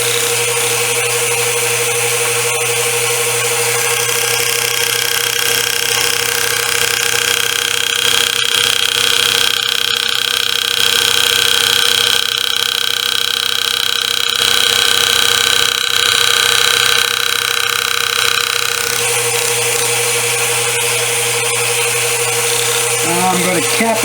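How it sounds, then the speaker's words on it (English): A hand engraver works a metal plate with a chisel graver, making a cap cut beside a scroll. A steady mechanical whir of a power handpiece or drill runs throughout with a constant low hum, loud and continuous, and no talking. "switch out to my chisel graver and then come back and start making these cuts"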